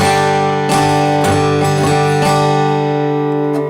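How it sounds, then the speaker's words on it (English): Acoustic guitar strummed too hard with a stiffly held pick, in several heavy, stiff strokes, each chord attack harsh and jangly, ringing on between strums with no voice present. "they dig in too hard and they hold their pick too stiffly."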